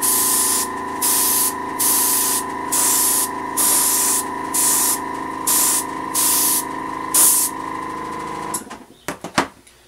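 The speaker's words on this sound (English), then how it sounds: "that sound you hear, of course, is my lovely rattly cheapo air compressor" A rattly, cheap air compressor hums steadily while a spray gun fires paint in a regular series of short hissing bursts, followed by a few scattered knocks near the end, with no talking.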